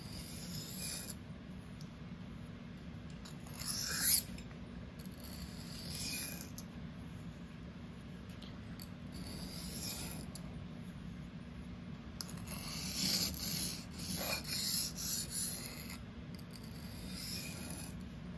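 REX-45 super steel knife sharpened freehand on a stone, soft repeated rasping strokes in uneven bursts, close and quiet, with no talk.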